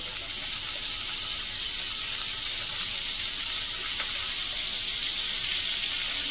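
Damp fresh green beans hit a pan of hot bacon grease, giving a loud, steady hissing sizzle that stays even for several seconds, with no voices.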